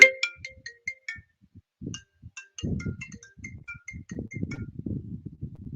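A phone ringing with an incoming call during a radio call-in show, heard as a repeating electronic ringtone melody of bright beeps, with low murmuring voices underneath.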